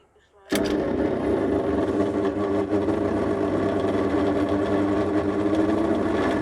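A stone-working machine switched on with a sudden loud start, then its motor revving up to a steady, continuous mechanical drone at full speed, close and dominant with no talk.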